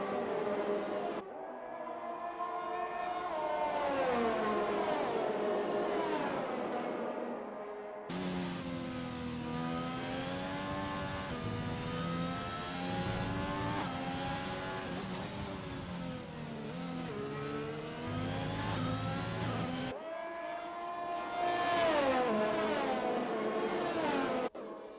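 F1 cars racing at the Belgium circuit in a racing video game, engines whining and revving through gear changes, rising and falling with cuts between cars, steady and loud, no voices.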